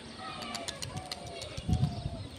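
A tame pigeon with yellow-ringed eyes gives a short burst of low cooing near the end, faint amid light background chatter and ambient noise.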